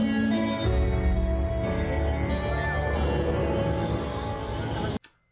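Music from the Flyride flight-simulation attraction, a dense, loud orchestral-style track playing continuously before cutting off abruptly near the end.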